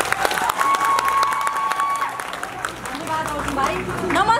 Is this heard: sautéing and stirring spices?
no